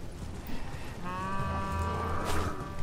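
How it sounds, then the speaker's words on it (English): A cow-like bleating animal call from the video game Elden Ring, a single drawn-out call lasting about a second and a half, fairly clear over a steady low background. "It sounds like a cow."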